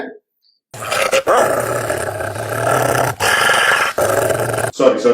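A dog growls low and menacingly in long, rumbling stretches broken by brief pauses, loud and close.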